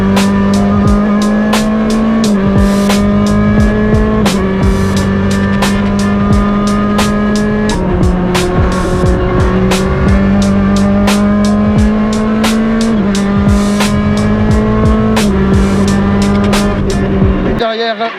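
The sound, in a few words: rally car driving on a stage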